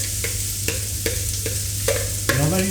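Coarsely cut aromatic vegetables fry in melted duck fat, a steady close sizzle broken by repeated stirring scrapes at roughly half-second intervals, with no talk.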